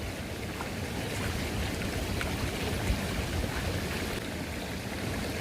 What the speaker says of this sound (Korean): 여기가 칠선 계곡